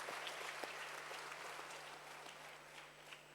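Applause at a 2021 university convocation ceremony for staff members, a steady wash of many hands clapping at moderate distance and fairly faint, continuing evenly with no talk over it.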